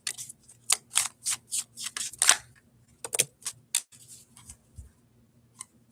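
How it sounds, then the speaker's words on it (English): A tarot deck shuffled by hand, a run of brisk papery riffles and card flicks in quick bursts, close and fairly quiet, with a low steady hum beneath and short pauses between bursts. "I'm gonna keep shuffling this time until something comes out."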